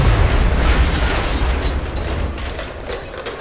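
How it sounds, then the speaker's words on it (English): A loud explosion in XCOM blows up cover, producing a dense, booming roar with heavy low rumble that slowly fades over a few seconds. "So we'll blow up some cover and open up the way for our rockets."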